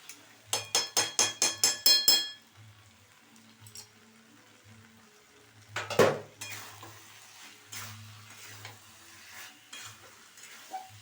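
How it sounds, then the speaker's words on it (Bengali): Ghee sizzles in a hot pan during the cooking of a vegetarian-style muri ghonto with a fish head. A quick run of sharp utensil taps comes first, then soft frying and stirring, a loud clatter, and scattered scrapes with no talk. "একটু ঘি দেবো এবারে, যে ঘিটা দেবো"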